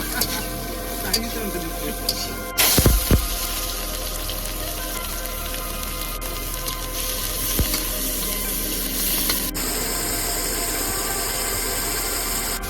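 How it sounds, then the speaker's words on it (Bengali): Soybean chunks frying in hot oil over an open fire, a constant crackling sizzle with a brief clatter of stirring, under a low background drone. "এবার ভেজে নেবো সয়াবিনটা।"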